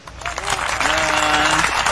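Brief applause from an audience at a live heritage talk in Teluk Intan, clapping swelling quickly to a steady patter, with a voice heard faintly underneath.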